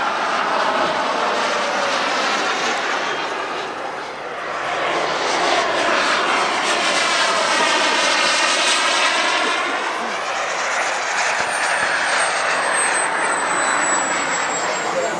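A large turbine-powered model helicopter flying 3D aerobatics makes a loud, continuous whining roar that swells and passes, with a brief dip before building again over fifteen seconds.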